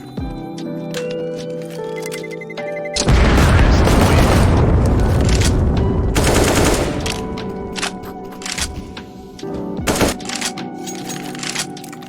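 A grenade detonates in a shooter video game with a sudden loud, close blast that rolls on for a few seconds, followed by scattered bursts of gunfire.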